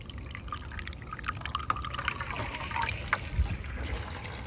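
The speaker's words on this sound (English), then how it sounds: "And when you keep on flushing the toilet," A toilet is flushed, its water rushing and gurgling down the drain in a continuous close, turbulent wash with small splashes and trickles.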